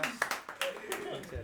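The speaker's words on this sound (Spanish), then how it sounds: "Fuerte un aplauso." Audience applause for a band, a scattering of sharp hand claps near the start that thins out, with voices talking over them.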